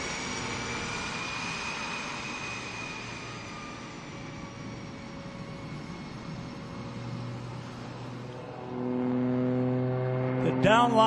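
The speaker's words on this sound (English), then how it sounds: "Now rolling the aircraft in the knife edge flight." Aerobatic airplane engine at an outdoor air show, a continuous drone that holds steady through rolling knife-edge flight, then swells louder and higher as the aircraft climbs, with no one talking.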